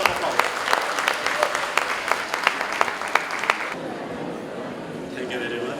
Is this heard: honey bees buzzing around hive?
no